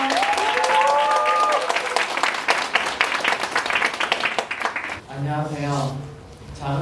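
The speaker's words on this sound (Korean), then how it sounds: "박수 주세요." Graduation presentation audience applauding a student called up to present, steady dense clapping for about five seconds, then a short voiced sound as the applause fades.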